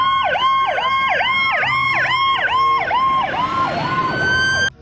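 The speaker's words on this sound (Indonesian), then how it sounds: "Wow, mobil ambulan." A small blue toy ambulance gives off a loud electronic siren that wails in steady repeated up-down sweeps for several seconds, then stops abruptly.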